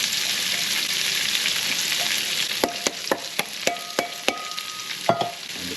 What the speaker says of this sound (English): Get that hot and fry our onions.